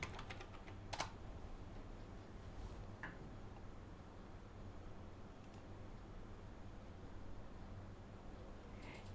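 Computer keyboard keys tapped in a steady run while entering a username and password, soft close clicks over a constant low hum with a couple of louder taps.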